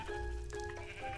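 A blocky Minecraft sheep gives a short, nasal bleat, close and clear against a quiet game background, with a second softer bleat toward the end.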